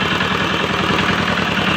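An engine running at a gold ore processing plant, a loud, close, steady mechanical drone with a fast regular pulsing throb, no voices over it.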